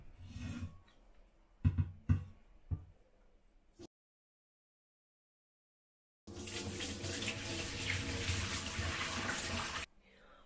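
Tap water runs steadily into a container of soaked walnuts for homemade walnut milk, a continuous moderately loud gushing for about three and a half seconds after some earlier kitchen clatter, then stopping abruptly.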